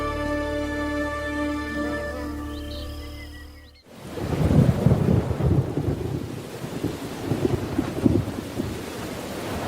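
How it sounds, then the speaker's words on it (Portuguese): Heavy tropical rain with thunder in the wild, a loud rolling crack breaking in after a musical passage and followed by a continuous roaring downpour with rumbling surges. "E a chuva continua durante semanas."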